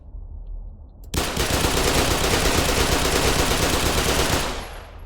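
Sustained, loud burst of automatic gunfire from a video game rifle, rapid shots running for several seconds after a quiet start, then cutting off.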